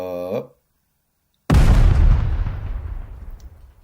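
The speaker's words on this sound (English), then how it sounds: "Firing grenade." A fired grenade explodes in Cry of Fear: a short voice, a second of silence, then one loud, sudden blast that decays slowly into a rumbling tail.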